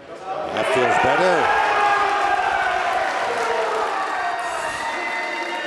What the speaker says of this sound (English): getting the crowd back in cheering mode